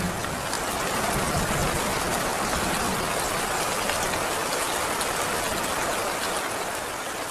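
Steady rain falls at night in an even, hissing wash that stays constant throughout, with no voices or other sounds.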